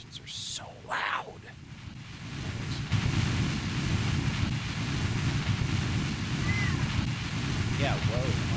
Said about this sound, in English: I also don't know why these particular engines are so loud.